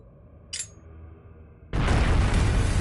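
A bomb explodes in Trails of Cold Steel, a brief high crackle first, then a sudden massive boom that roars on loudly and steadily to the end.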